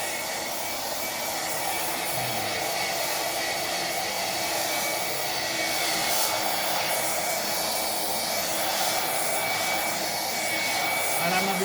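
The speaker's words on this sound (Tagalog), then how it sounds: "Gagamitan natin guys ng blower" An electric blower dries a freshly cleaned floor at home, giving a steady, loud whirring drone that runs throughout with little change, while faint talk sits underneath.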